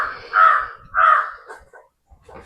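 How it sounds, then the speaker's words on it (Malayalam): A crow caws close by near a dog's food bowl: two loud, drawn-out caws in succession, followed by a few quieter, shorter calls and faint rustling. "ബീഗുൻ അവിടെ ഫുഡ് കഴിക്കുമ്പോ അവിടെ കാക്ക വന്നിരിക്കും ഗൈസ്"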